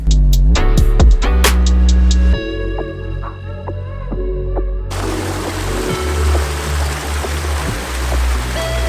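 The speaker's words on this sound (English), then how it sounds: "We made it to this beautiful, hidden, 50-foot waterfall." A hidden 50-foot waterfall in Southern California roars as a steady, broad wash of falling water, taking over fully midway after a stretch of quieter, more tonal sound.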